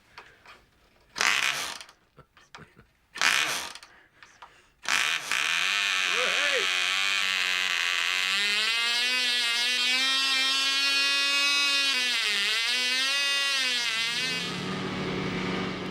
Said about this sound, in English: That was the engine, by the way.